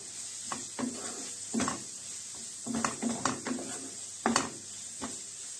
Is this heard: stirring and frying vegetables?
yes